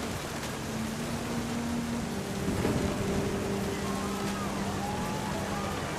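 Steady rain hisses through a stormy scene in What Remains of Edith Finch, a dense constant wash with a low swell partway through that suggests distant thunder, while faint tones drift above it.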